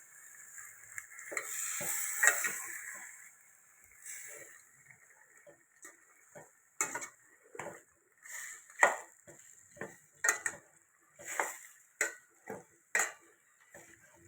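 Washed chicken is stirred in a cooking pot with ginger for a chicken curry: a soft sizzle comes first, then a steady series of distinct scraping strokes about once a second, close and clear with no talking.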